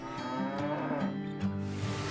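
Cattle moo in long, low, drawn-out calls, one after another and close by, with no voices.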